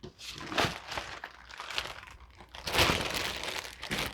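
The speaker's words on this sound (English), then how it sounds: "And inside this plastic bag, let's see what we got in here." A plastic bag crinkles and rustles in repeated bursts during the unboxing of a Scotts Professional sprayer, close and fairly quiet.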